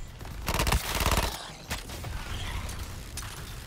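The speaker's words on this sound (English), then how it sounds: "New bullets. New firing sequence." Bursts of rapid gunfire in the Suicide Squad: Kill the Justice League video game, two dense volleys followed by a few sharper isolated shots, loud and close.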